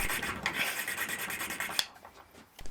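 A small flat file rasps back and forth on a walnut ring box, truing a hole to size; close, steady rubbing strokes that stop abruptly near the end, leaving a quieter tail.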